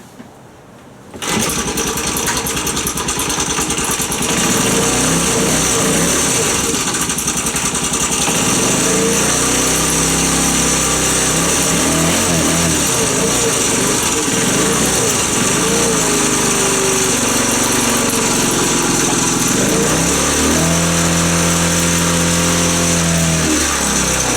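A postie motorbike engine fires up and then runs loudly and steadily close by. It is revved several times, with rising and falling engine pitch.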